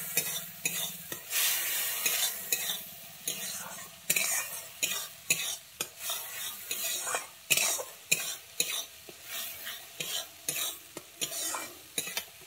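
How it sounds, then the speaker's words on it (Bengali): Egg curry masala being sautéed with kasuri methi and garam masala, a spoon scraping and stirring the pan in repeated bursts over a continuous oily sizzle, with occasional utensil clinks. "গরম মশলা আর কস্তুরি মেথি দিয়ে আমি একটু ভালোভাবে কষিয়ে নিচ্ছি আবার।"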